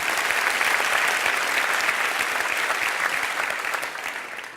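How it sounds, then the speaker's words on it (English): Sustained round of applause from a TEDx talk audience during a magic performance, dense and steady, then tapering slightly toward the end, no voices over it. "Let's have a round of applause for the gentleman for helping."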